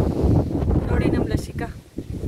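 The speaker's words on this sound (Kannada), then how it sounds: "ಗಾಳಿ ಕೇಳ್ಕೊಂಡು ಕೂತಿದ್ದಾಳೆ" Strong wind gusts outdoors, buffeting the microphone with a steady loud rumble and rustle, while people talk nearby.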